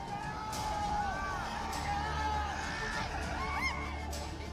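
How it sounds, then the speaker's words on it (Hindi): Protesters chant slogans at a street demonstration over teacher recruitment in Rajasthan. Many voices overlap in shouts and whoops, and the crowd noise holds at a steady, moderate level from a short distance. "मुजाहिरीन की नारेबाजी"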